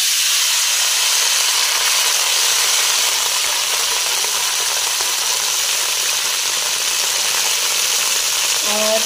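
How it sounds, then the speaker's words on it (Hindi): Cooking oil in a hot pan gives off a loud, unbroken sizzling hiss at close range, steady from start to finish. "सबसे पहले मैं डालूँगी इसमें ऑयल"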